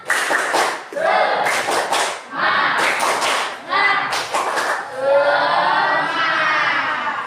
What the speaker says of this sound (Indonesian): Oke, kita mulai tepuk semangat